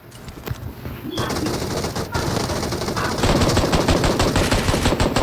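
Automatic gunfire in the PUBG Mobile shooter game, rapid sustained bursts of shots that get louder and denser, with a brief pause partway through and faint game sounds underneath.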